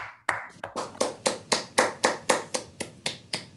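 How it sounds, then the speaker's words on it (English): Rhythmic clapping at a Toastmasters club meeting, a single close, crisp set of hands striking about a dozen evenly spaced, sharp claps with no other sound. "Let's give them a thunderous round of applause."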